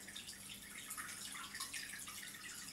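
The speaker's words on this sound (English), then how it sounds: "Quite quite a nice jet of water coming out of there." An Aquael ASAP Filter 700 aquarium filter pump sends out a steady jet of water, a faint, continuous hissing splash with light bubbling and no voices.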